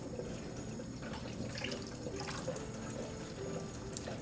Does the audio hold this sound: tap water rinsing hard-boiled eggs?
yes